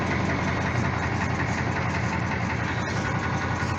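The engine of a Ford F-600 wrecker tow truck fitted with a Holmes tow bed runs at a steady idle, a close, continuous rough rumble with a faint knocking texture and no voices.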